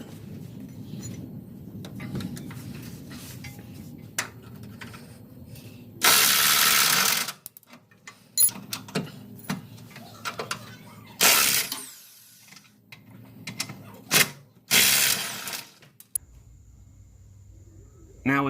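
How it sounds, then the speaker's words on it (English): An impact gun hammers at bolts on the steering idler and pitman arm of a 2004 Chevy Suburban 2500HD four-wheel drive, firing in three loud bursts of a second or so each, separated by quieter clinks of tools in a garage. "you go at these with some kind of impact gun, whether it be electric, battery, or air."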